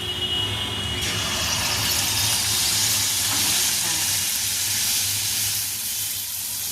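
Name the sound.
malpua batter frying in hot oil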